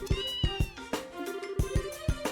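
A cat meowing in the video game Trails in the Sky: repeated clear, tonal meows layered over rhythmic thumping game music, fairly loud and close, with no talking.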